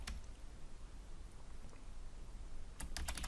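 Quiet background hiss, then a quick burst of several computer keyboard taps entering numbers near the end, crisp and close.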